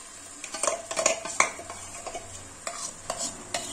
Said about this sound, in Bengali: এইবার আমি যে মশলাটা তৈরি করে রেখেছিলাম সেই মশলাটা দিয়ে দেবো